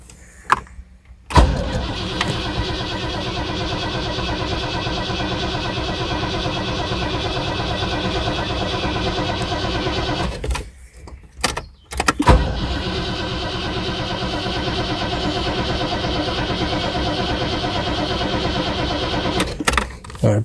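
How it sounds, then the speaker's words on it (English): A Rover SD1 under restoration, with a weak battery, cranks over in long repeated bursts without catching. It makes a steady, rhythmic churning up close, broken by brief pauses between attempts. "we are now going to see if the car will start."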